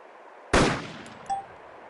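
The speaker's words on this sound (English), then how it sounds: "and fire" A single sharp sniper rifle shot from a scoped German rifle in the game DayZ/Arma 2, loud and abrupt, followed by a decaying tail and a faint metallic ring.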